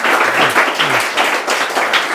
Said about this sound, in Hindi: ताली बजा दो जी।